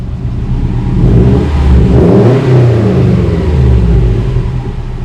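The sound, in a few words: car engine revving with muffler removed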